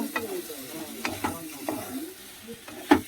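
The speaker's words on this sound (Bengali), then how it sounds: "এবার জল দিয়ে দেব" Water poured into masala frying in a pan, with sizzling and stirring scrapes in short bursts, close and moderately loud.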